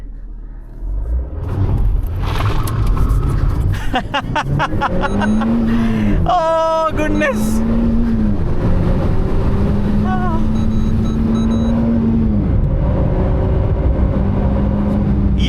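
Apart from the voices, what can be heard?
Renault Alpine A110 1.8 litre Nissan-sourced engine running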